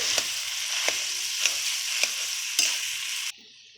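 Mashed potatoes and sandwich masala stirred in a sizzling pan: five rhythmic, close scraping strokes over a soft sizzle, then the sound cuts off abruptly.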